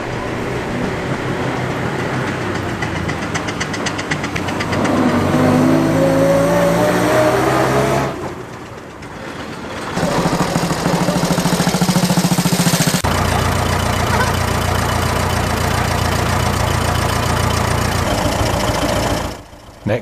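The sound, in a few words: vintage vehicles driving around a museum perimeter track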